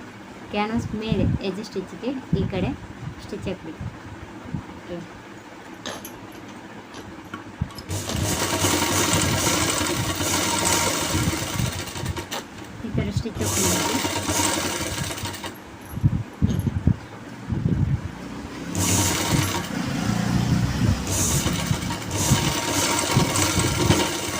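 An electric sewing machine stitches a zip onto fabric over canvas in long steady whirring runs with brief pauses, loud and close, while a person talks over parts of it.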